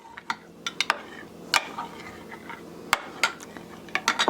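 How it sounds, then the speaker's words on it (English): Heavy cream being mixed into scone batter in a bowl, with sharp irregular clinks and taps of a utensil against the dish over a soft, scraping stir, close and clear. "to add 1/2 cup of heavy cream. Mix that a little bit."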